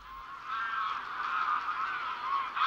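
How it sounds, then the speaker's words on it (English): Greylag geese, the wild goose, honk in a lagoon in Villafáfila in autumn migration, a dense overlapping chorus of nasal calls from a flock at moderate distance, steady and unbroken. "another great migratory bird, the grey-lag goose, also known as the wild goose"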